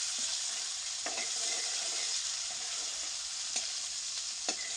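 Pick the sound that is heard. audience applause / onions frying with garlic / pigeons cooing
onions frying with garlic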